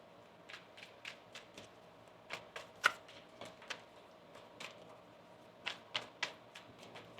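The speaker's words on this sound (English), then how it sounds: "One more shuffle now." Tarot cards are shuffled by hand in a quiet room, producing a run of soft, crisp riffles and taps at an uneven pace, close to the microphone and fairly faint.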